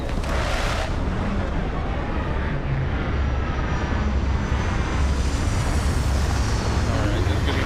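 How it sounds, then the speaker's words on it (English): In the Starfield video game, a spaceship comes in to land with retro thrusters firing, a loud, sustained engine roar and rumble that stays steady throughout, with no talk over it. "Landing struts primed, retros firing."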